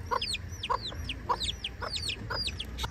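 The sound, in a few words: chickens and roosters on Maui's Road to Hana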